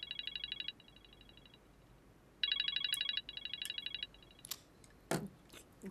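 A telephone rings in bursts of bright electronic trills, faint and close, with short gaps between rings, then a few soft knocks and clicks.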